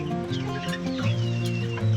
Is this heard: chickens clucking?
yes